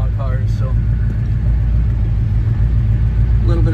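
Road traffic passing near a 1970 Chevelle parked at the roadside, a constant low engine rumble with a voice over it.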